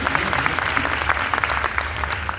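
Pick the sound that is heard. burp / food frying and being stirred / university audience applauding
university audience applauding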